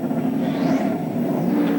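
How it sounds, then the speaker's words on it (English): A sports prototype race car at the 2001 Sebring 12 Hours rolls down the pit lane on its speed limiter, giving a rough, burbling, constant engine drone with a faint rising whine, close by and without talk. "That noise you hear is the car on its speed limiter."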